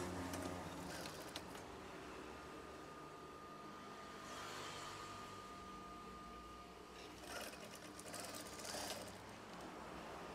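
A sewing machine stitches swag curtain fabric in a steady, fairly quiet mechanical whir with light rhythmic clatter. It runs on throughout with a few brief louder bursts and no talk.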